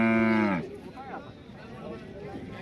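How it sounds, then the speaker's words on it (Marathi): A native young bull, about a year and a half old, moos loudly and close at a busy cattle market, one long low harmonic call in the first half-second, then crowd chatter and market noise carry on. "देशी खोंड एक आलंय बघा"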